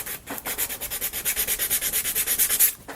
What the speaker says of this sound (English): get some real sanding done on that